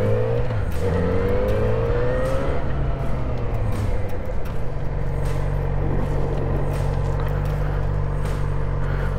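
A motorcycle rides around obstacles on a training course during a licence test, engine rising and falling in pitch as it slows and weaves, with steady loud motor drone and some wind noise, no talk.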